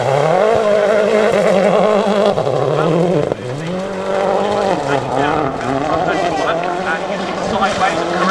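A 2-litre World Rally car slides sideways through a forest stage at Wales Rally GB 2010, its engine droning loud and steady with shifting pitch and a brief dip partway through, under continuous commentary.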